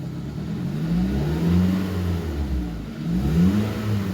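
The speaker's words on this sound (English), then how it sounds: "I'm gonna go ahead and raise the RPM" A car that has lost power with no check engine light, muffler disconnected at the back, revs up from idle in two long swells, its engine note rising and falling loudly and close with no talking.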